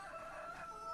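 A rooster crows in the Farming Simulator 25 video game, one short, faint crow with a bright tonal quality heard alone.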